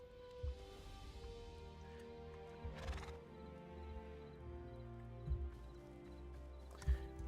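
A horse in the video game Hytale gives several loud, close whinnies over a soft ambient background, with clip-clop hoofbeats and a few thumps scattered between the calls.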